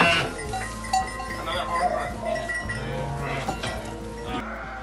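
Baby lambs bleat among other livestock in a busy farm barn, several overlapping calls near and far amid a constant crowd murmur, with people talking nearby.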